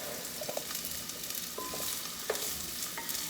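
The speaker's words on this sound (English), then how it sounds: "So the onions in there, so we're stirring." Onions frying in a pot while being stirred, a steady bright sizzle with occasional scraping and knocks from the spoon, close up and with no talking.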